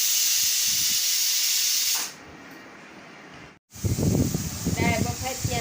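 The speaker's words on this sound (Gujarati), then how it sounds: "મેં મિક્સ દાળ બાફવા મૂકી દીધી છે સરસ મજાની કુકર પર" A pressure cooker boiling mixed dal lets out a loud, steady steam hiss for about two seconds before it drops away, followed by a voice talking nearby.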